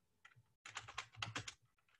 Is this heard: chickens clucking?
no